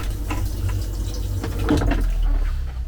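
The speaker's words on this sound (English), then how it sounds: "I'm going to go ahead and flush it down." An RV toilet flushes with a steady rush of water and gurgling that stays loud and close for several seconds.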